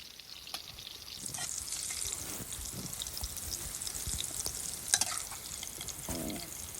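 Turnip pieces for a Wazwan-style shalgam dish fry in oil to golden brown, with a soft, steady crackling sizzle and a few scattered pops and scrapes at a quiet, close level.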